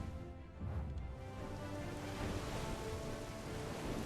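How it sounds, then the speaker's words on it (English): Rain falls over the ocean in the online game Black Desert Online, a steady dense hiss of downpour with a low rumbling undertone throughout. "It is raining every time I go into the ocean."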